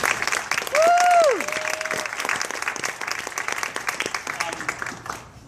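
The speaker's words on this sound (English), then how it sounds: "I think she needs a little round of applause from you." Warm audience applause at an awards event, a full room clapping steadily, with a whistle rising over it near the start and the clapping thinning toward the end.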